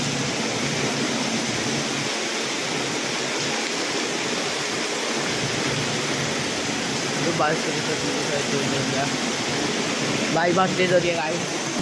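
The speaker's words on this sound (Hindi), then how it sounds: "बाहर बारिश कितनी तेज़ हो रही है" Heavy rain falls outside a house as a steady, dense hiss, with water streaming below; a voice speaks briefly over the constant downpour.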